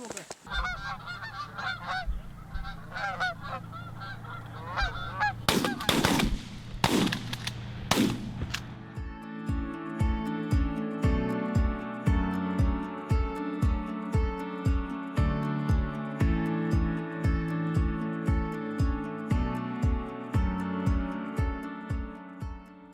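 Many geese honk in a noisy flock during a goose hunt, then three loud gunshots crack in quick succession before a rhythmic thumping pattern takes over.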